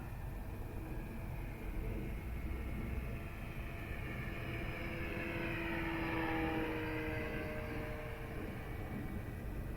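An FMS Ranger 1220mm RC model plane with electric propeller flying overhead, a steady whirring drone that swells and shifts in pitch as it passes, with constant outdoor wind noise.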